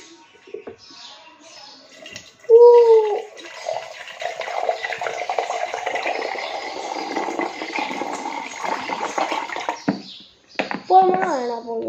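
Water is poured while lemon juice is being made, a steady splashing stream for several seconds, close and moderately loud, with people and someone talking over it.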